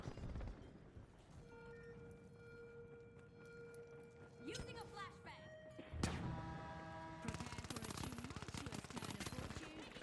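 Rapid bursts of gunfire in the game The Finals crackle amid busy game sounds and electronic tones, with dense automatic shooting toward the end.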